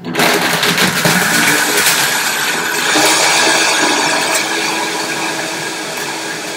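A loud, high-pitched high-speed blender whirs continuously at full speed blending an avocado chia seed milkshake, a harsh steady roar with no voices over it.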